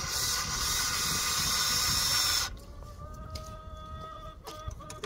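Chickens in a backyard chicken run make short clucks and calls, moderately close, over a loud steady hiss that cuts off midway and leaves a quieter background with scattered clicks, with no voices.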